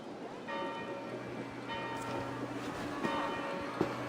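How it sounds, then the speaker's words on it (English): Church bells ring out in a quiet setting, sustained tones with repeated strikes over about four seconds, moderately distant and steady. "Do you not hear the bells?"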